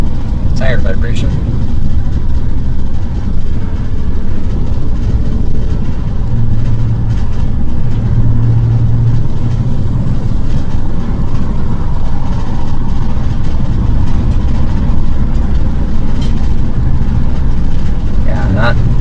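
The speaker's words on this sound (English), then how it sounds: "Tire vibration." Constant low road rumble and drumming tire vibration inside a moving Ford E450 van, steady and loud throughout with no letup.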